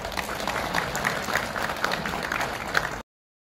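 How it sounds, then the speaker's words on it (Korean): Applause from the audience at a university graduation ceremony as an honor student walks up to the stage, a steady, moderately distant patter of clapping that stops abruptly. "박수 찍으셔야죠."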